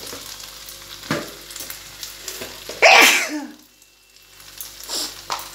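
Onions frying in a pan for chicken rezala give off a soft sizzle with stirring. A loud hissing burst rises midway, then the sound drops to near silence before faint sizzling and stirring return.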